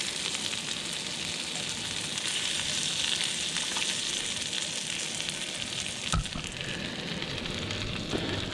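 Bluegill fillets frying in butter in a pan, giving a steady, close crackling sizzle throughout with a couple of brief clatters near the end.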